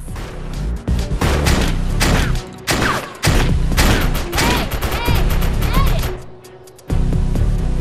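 Rapid bursts of gunfire and heavy impacts from a sci-fi shooter video game, with dense, loud volleys and crashes layered over a continuous low electronic drone, briefly easing before the firing resumes.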